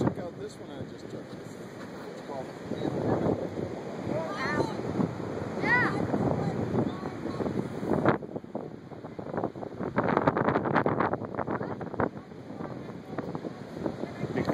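Heavy surf rolls in and crashes against the sea wall at Humarock, heard as a broad churning wash with a stronger surge late on, mixed with wind buffeting and people chatting nearby.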